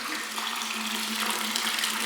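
Spring water flows in a steady, close stream into a collection box, making a continuous splashing rush with a faint underlying tone and no talking.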